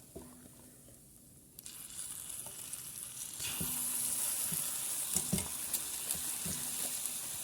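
Fried garlic taqliya for frozen molokhia, poured hot into the pot: quiet at first, then a sudden loud, sustained sizzle with scattered crackles and a few soft clinks close by.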